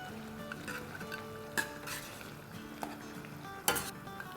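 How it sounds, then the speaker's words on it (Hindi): Large-cut green chilies being stirred into a karahi in a pan, giving a soft steady frying hiss with a few sharp metal clinks and scrapes of the spoon against the pan. "साथ ही इसमें हम डाल देंगे 2-3 हरी मिर्चें, जो कि मैंने बड़ी बड़ी काट ली है, कुछ तेज़ है कुछ तेज़ नहीं है। इसको मिक्स करेंगे।"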